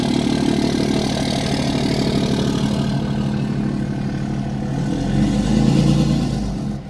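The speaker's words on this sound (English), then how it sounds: "get a muffler on that truck. Y'all hear that? Sound like a lawnmower." A truck running without a muffler gives a buzzy, lawnmower-like engine drone. It stays steady and moderately loud throughout, swelling slightly toward the end.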